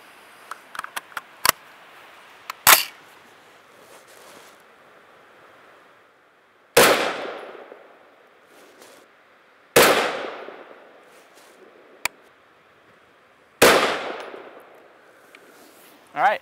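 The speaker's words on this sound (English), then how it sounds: "So now we're going to go ahead and shoot another three-shot group based on the 8 clicks of elevation," Rifle fired through a FLIR ThermoSight R-Series thermal scope for a three-shot group: three loud, sharp reports spaced a few seconds apart, each decaying quickly, plus some fainter clicks and knocks between them outdoors.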